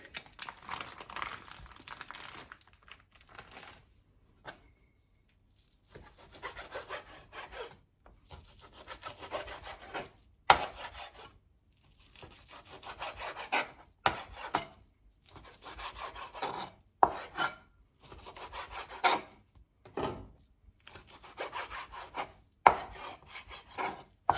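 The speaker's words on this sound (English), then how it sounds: "I'm going to go ahead and cut up my bacon." A knife cuts through bacon on a board for a Southern Hoppin' John, with close, uneven bursts of rasping, scraping strokes separated by short pauses and no talking.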